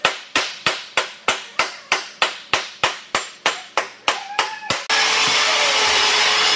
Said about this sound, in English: Using some power tools to get the job done here.